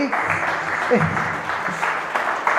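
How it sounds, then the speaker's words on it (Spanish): A brief patter of applause at a church sermon, a few hands clapping together, with a voice faintly underneath. "Aplauda usted sola si quiere."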